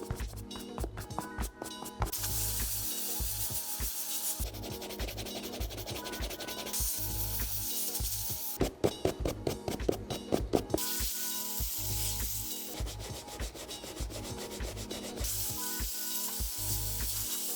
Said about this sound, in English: The compressor removed a lot of the grime and dirt off the sneaker